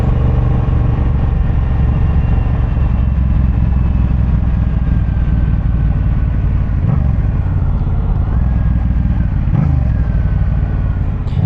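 A stunt motorcycle idling at a protest in Kansas City, a loud close continuous low rumble of the engine with a couple of brief throttle blips, no talking.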